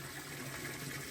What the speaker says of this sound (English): I'm currently filling it back up again